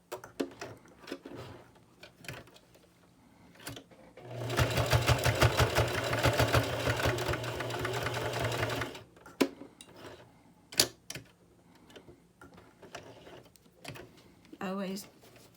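Grosgrain ribbon on a face mask is stitched by a sewing machine in a rapid, rattling burst of about four seconds, with scattered clicks and handling noises before and after.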